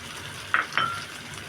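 Colored bell peppers are stir-fried in a hot pan, with a soft continuous sizzle broken by two quick scraping stirs close by.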